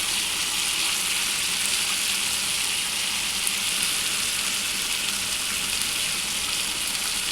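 Spice masala of chili powder, cumin powder and coriander powder frying in oil for chana dal, a steady close sizzle that holds evenly throughout with no talk.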